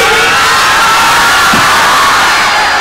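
A large crowd roars and shouts continuously, loud and dense, with cheering voices blending into a steady wall of noise.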